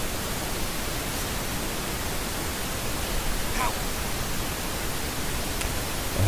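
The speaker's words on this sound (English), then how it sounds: "just the pink noise now on the necrophonic app" Steady pink noise from a phone app runs continuously at even loudness, broadband and hissy like static, with only faint brief ticks over it and no voices.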